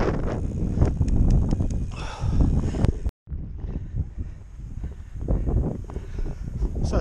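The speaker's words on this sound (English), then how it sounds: "So it's quite windy today, but it's a nice warm breeze" Strong wind buffets the microphone in heavy, rumbling gusts while cycling, broken by one brief dropout partway through, then the roaring continues.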